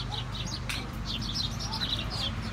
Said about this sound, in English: Looks like there's birds in there.